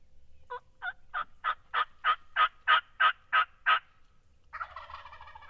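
A wild turkey gobbles in a long run of about ten rapid, evenly spaced calls that build in loudness. A brief rougher burst of sound follows in an outdoor setting.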